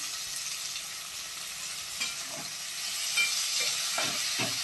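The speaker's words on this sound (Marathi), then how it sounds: "इथे मी कोबी टाकली, 1 वाटी कोबी घेतलेला आहे" Cabbage hits hot oil with ginger and garlic and is stir-fried for fried rice, giving a constant bright hiss with repeated soft scrapes and tosses close by.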